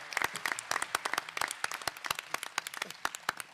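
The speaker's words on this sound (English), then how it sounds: "Let's give him another round of applause." A small audience at a conference pitch session applauds, individual claps distinct and irregular, moderately close, with no voices over them.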